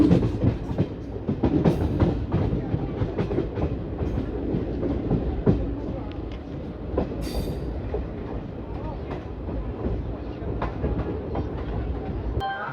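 Delhi Fazilka Intercity Express rolling into Kurukshetra Junction station, a steady rumble of rail cars with rhythmic wheel clatter on the track joints and an occasional brief squeal, close and continuous throughout.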